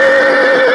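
A loud, close horse whinny rings out alone for under a second, one sustained quavering cry with no voices around it.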